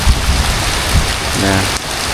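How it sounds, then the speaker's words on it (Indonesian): Heavy rain pours down steadily as a dense, loud wash of noise close by, with a brief low tone rising partway through and no speech. "mana hujannya besar lagi tuh"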